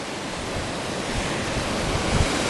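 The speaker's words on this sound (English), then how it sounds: "we're right at the side of the waterfall" Grey Mare's Tail waterfall near Moffat, Scotland, heard from right beside the falls as a steady, dense rushing roar of falling water, loud and unbroken with no voices.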